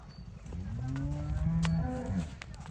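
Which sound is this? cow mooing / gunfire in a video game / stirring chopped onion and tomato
cow mooing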